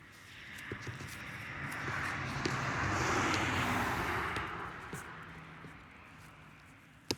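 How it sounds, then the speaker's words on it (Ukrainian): Cars pass by on a road near a riverbank where someone is fishing, a broad whooshing swell that rises, peaks and fades over several seconds, moderately distant, with small knocks and handling noises close by. "Машини ганяють"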